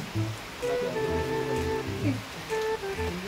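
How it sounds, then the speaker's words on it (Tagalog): Steady rain falls around a building site where a roof is being built, making a constant close patter with no talking. "Wala magagawa, maulan talaga."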